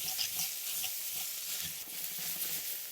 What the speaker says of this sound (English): let that fry out a little bit with the onions. So just stir that around just to caramelize it a little bit.